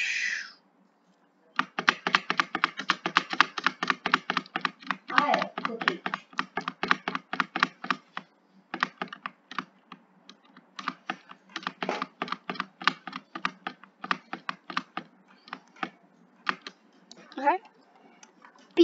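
Keys on a computer keyboard are pressed during a game of Terraria, sounding as close, crisp clicks in rapid bursts and irregular runs, with brief pauses between flurries of tapping.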